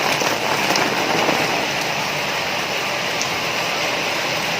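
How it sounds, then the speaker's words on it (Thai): Heavy rain pours down steadily outside a shop after a drive, a dense, constant hiss with no gaps and no voices. "ได้ยินเสียงฝนไหมครับ"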